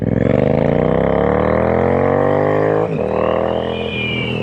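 Triumph Street Twin 900 motorcycle with a 900cc inline twin engine and a Tech pipe 2-in-2 exhaust, revving loudly and steadily up in pitch, with a brief dip near the end before it pulls again.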